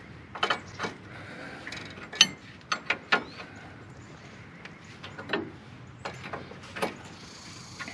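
Metal wrench clicking and ratcheting as a nut comes off a Ford F150 actuator, a string of sharp irregular clicks and clanks close by, spaced out over a quiet background.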